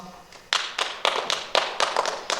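An audience applauds award winners at the Intermedium 2020 results announcement. The clapping is close and steady, with strong rhythmic surges about every half second.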